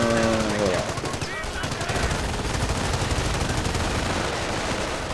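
MG42 machine gun fire in the World War II strategy game Company of Heroes, with long dense bursts of rapid gunfire and other weapons filling the mix, loud and continuous throughout.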